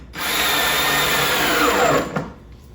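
A power drill drives screws into a wooden swarm trap box, its motor whining loud and steady for about two seconds before spinning down and stopping.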